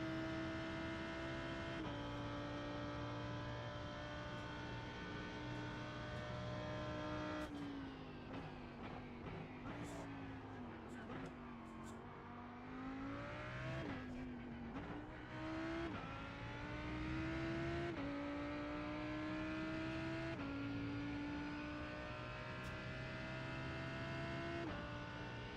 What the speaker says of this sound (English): We're in the Lamborghini. Lamborghini Huracan GT3.